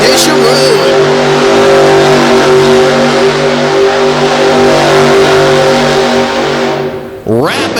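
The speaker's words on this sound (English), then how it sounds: "Wrapping up his run with some excellent donuts. The big metal shop chassis GMC bodied machine laying it down." A big GMC-bodied monster truck on a metal shop chassis spins donuts in an arena, its engine roaring loud and steady with sustained revving and tire noise, then dropping off abruptly near the end.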